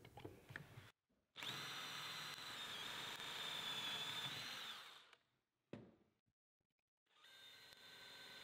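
A power drill bores screw holes through trailer material to mount a camera bracket, with a close, loud steady whine for about four seconds, a brief burst later, then another run starting at the end; no talk.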